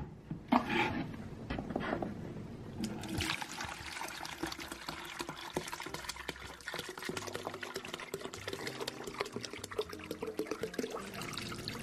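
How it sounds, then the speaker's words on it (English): Water poured into a one-gallon pitcher, a close, continuous gurgling splash after a couple of brief knocks, filling steadily for about nine seconds. "So next, we're gonna pour this into my 1 gallon pitcher."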